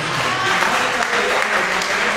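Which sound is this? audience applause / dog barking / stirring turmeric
audience applause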